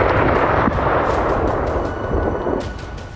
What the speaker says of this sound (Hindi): पूरे शहर में विस्फोट की आवाजें सुनी गई।